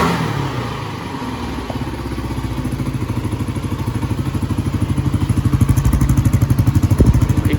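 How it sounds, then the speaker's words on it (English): A warmed-up Kawasaki KLR 250 single-cylinder engine idles close by, a steady rapid putter whose beat grows slightly louder and firmer toward the end. "All right, so let the bike run for a while."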